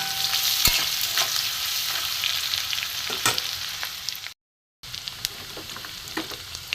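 Crushed garlic, whole garam masala and bay leaves sizzle steadily in a little hot oil for a chicken curry, with close crackling pops and stirring scrapes that break off for a moment partway through.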